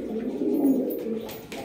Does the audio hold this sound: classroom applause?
no